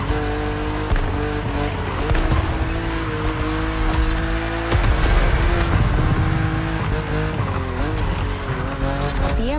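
A BMW Z roadster, a two-seater, races with its engine revving and shifting through changing pitches, tires squealing at moments, loud and close throughout the run.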